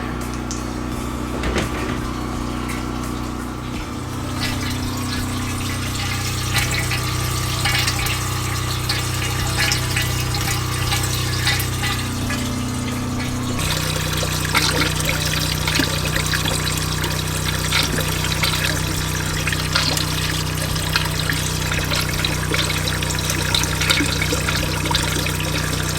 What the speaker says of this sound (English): I'm transferring water from our outside buckets into here.